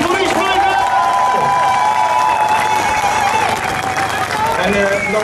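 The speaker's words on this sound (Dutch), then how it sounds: "Maar ik wil wel echt een heel groot applaus" Audience applause and cheering at the official carnival opening in Sas van Gent, steady crowd clapping with whoops mixed into a noisy festive hall, as a voice speaks over it.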